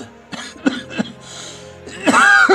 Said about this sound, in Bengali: কাশিটা কি আবার খুব বাড়ছে নাকি বলো তো?